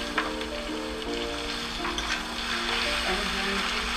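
Pork hits a hot pan of browned onions and green chilies for a Garo-style pork stew, giving a steady, close sizzle of frying that holds at an even level for about four seconds.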